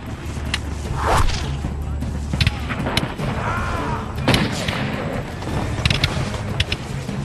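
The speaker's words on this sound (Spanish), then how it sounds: "El humo de los disparos oscurece el entorno y las balas vuelan en todas las direcciones" Battle sound effects of musket gunfire during a frontier ambush in forested ground, with sharp repeated shots and thuds scattered over a dense, loud rumble of combat noise.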